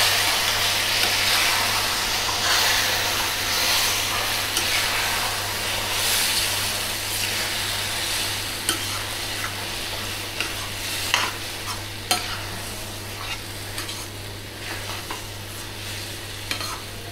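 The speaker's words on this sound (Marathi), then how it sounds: "आता या भरताला सुद्धा आपण छान मिक्स करून घेऊया।" Khandeshi eggplant bharit being stirred and mixed in a pan, a steady soft sizzle with repeated scraping and clinking of a spoon against metal, close and continuous under a low constant hum.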